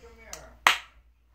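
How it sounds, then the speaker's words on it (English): A single sharp hand clap rings out near the microphone after a softer tap, then quickly fades to silence in a quiet room. "I probably shouldn't have clapped my hands."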